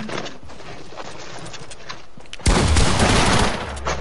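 Burst of video game gunfire erupting midway and rolling on loudly for about a second before trailing off, preceded by quieter game ambience.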